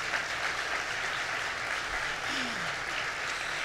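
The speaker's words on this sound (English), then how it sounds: "Now you can applaud" Sustained applause fills a hall of elected officials and community leaders at a Long Island event, an even and dense roar of many hands clapping with no talking.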